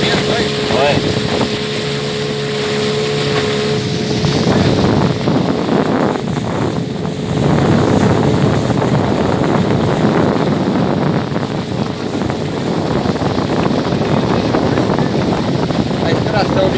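Wind buffets the microphone during a boat ride on the Mogi River in Brazil, a steady loud rush over the hum of the boat's motor and water, with a person speaking briefly.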